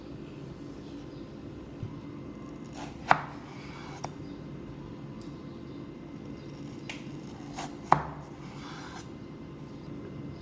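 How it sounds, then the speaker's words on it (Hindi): A knife cuts boiled potatoes for chaat on a board, with a few soft, sparse chopping taps and one or two sharper knocks against a faint steady background hum. "चाट बनाने के लिए मैं आलूओं को पहले से कटिंग कर रही हूँ।"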